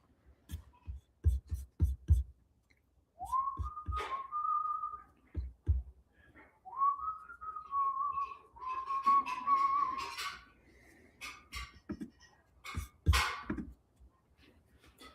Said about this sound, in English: Did you hear whistling?